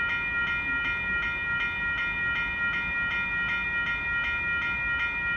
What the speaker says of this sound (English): I can probably hear the other train probably back there moving through